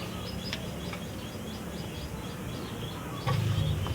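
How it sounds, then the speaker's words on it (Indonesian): Soft, low zebra dove cooing rises briefly near the end over steady outdoor background noise, with faint chirps scattered through. "Suara perkutut"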